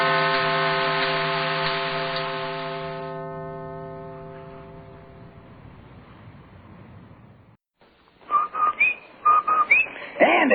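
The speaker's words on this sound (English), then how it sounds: "That's the Rinso White whistle." The Rinso White whistle from an old radio advertisement: a long, bright descending whistled tone that fades out, followed after a pause by louder short bursts of sound.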